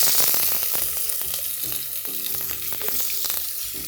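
Onions, garlic and squash fry in olive oil in a pan with a continuous close sizzle, heard alongside background music and no talking.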